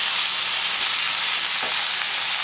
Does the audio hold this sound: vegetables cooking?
yes